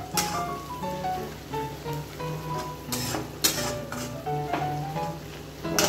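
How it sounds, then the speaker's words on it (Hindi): Meat masala fries in a pan, sizzling and crackling steadily while a utensil stirs and scrapes it, close and continuous with no talk. "मसाला को बहुत ही अच्छे से भून लेते हैं।"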